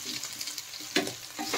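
Chopped potatoes fry in hot spiced oil with a steady bright sizzle, broken by a few sharper crackles and bursts as they hit the pan.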